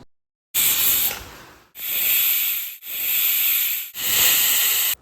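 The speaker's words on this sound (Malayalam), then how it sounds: "ഇനി ഇതൊരു 4 വിസിൽ അടുപ്പിച്ചെടുക്കുക." A pressure cooker full of sweet corn vents steam in four loud, sustained hissing bursts, each separated by a brief pause, close and with no talking.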